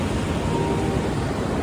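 Atlantic Ocean surf rushes steadily along the shore, a continuous broad hiss of breaking waves with some wind, no voices.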